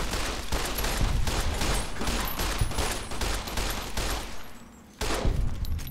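Sustained gunfire fills a firefight in the video game Fallout New Vegas, dense overlapping shots and bursts with a brief lull near the end before the shooting resumes loudly.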